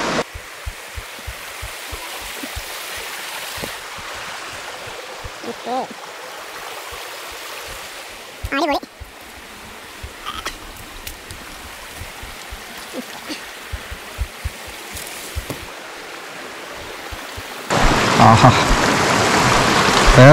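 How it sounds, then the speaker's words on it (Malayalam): A stream flows near Kothakuzhi, Kattapana, in a cool breezy setting, a steady close rush of water running throughout with scattered clicks and knocks, swelling louder and brighter in the final seconds. "നല്ല വെള്ളത്തിന്റെ സൗണ്ട് അടിപൊളിയായിട്ടുണ്ട്, പിന്നെ ചെറിയ കാറ്റും ഉണ്ട്"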